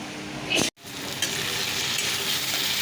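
Steady sizzling and bubbling of pumpkin cooking with mung dal in a pan, close and continuous, broken by a brief dropout and a small clatter early on.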